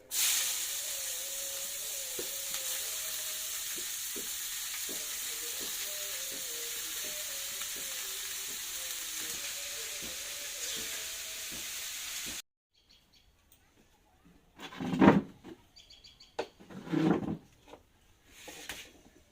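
Cabbage cooking with garam masala and dried chillies in a pan gives a steady, close sizzle with light stirring clicks for about twelve seconds, then stops; a few separate clattering sounds follow in quiet.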